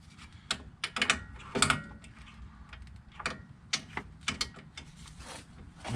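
A breaker bar with an 18 millimeter socket works a bolt on a Jeep front end during a beach buggy build, giving irregular metallic clicks and ratcheting ticks, close by and fairly faint, with no voices.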